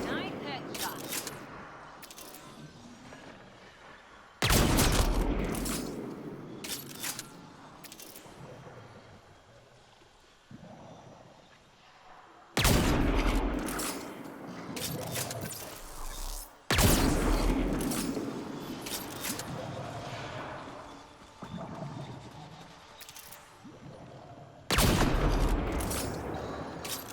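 Gunfire in the video game Mass Effect: Andromeda, played on Hardcore difficulty: several loud, sharp bursts of shots separated by quieter stretches, with a voice talking between them.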